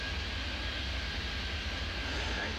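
An airliner in the airport game Airport Madness 3D rolls for takeoff, giving a steady, even jet-engine roar with no break.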